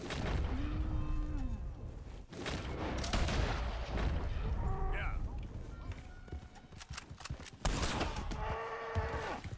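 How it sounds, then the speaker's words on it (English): A cow moos several times in a video game, drawn-out lowing calls spread across the scene, mixed with hoof clops, gunfire-like bursts and a player talking over it. "now I feel like I have to kill this cow"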